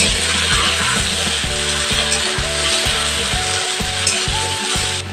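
Cut potatoes land in hot oil with fried onion and green chilli, giving a loud, continuous sizzle and frying crackle. Regular, rhythmic low scraping knocks from stirring in the pan run beneath it.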